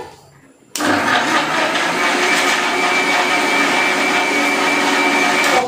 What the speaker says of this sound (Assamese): এই মিক্সাৰটো মাৰি দিয়েহি না